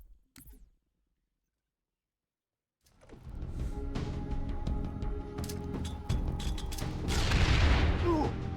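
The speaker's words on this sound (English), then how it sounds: "There is a third nade that we're going to be throwing." Grenade blasts in the video game Halo 3: ODST during a Tayari Plaza speedrun, a short burst, then silence, then rumbling booms and mechanical crackle building loudly over several seconds.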